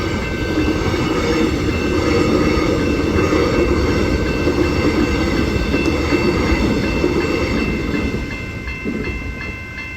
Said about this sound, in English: it's an Extrapolis 100 train